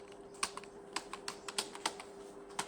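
Quick, irregular keystrokes on a computer keyboard while entering text into an MS Excel sheet, close and fairly quiet, with a faint steady hum underneath and no talking.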